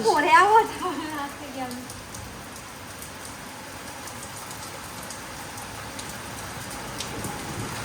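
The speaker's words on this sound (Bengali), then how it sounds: "ও মা ঝমঝম করে বৃষ্টির আওয়াজ কানে আসলো" Heavy rain falls on a rooftop as a soft, even hiss that holds steady throughout, fairly distant and without distinct drops.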